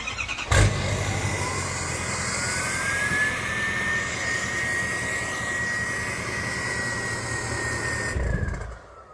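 A diesel truck with a full 5-inch Flow Pro exhaust, custom max-effort tune and transmission tuning fires up with a sharp bang, then settles into a loud, steady idle with a rising whine. It cuts off abruptly near the end.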